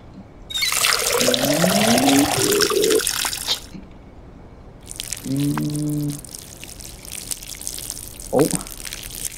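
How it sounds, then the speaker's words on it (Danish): Water is poured onto a plant in the video game Schedule I, coming as two splashy trickling bursts separated by a pause, with short vocal sounds in between. "Så skal vi have noget vand her."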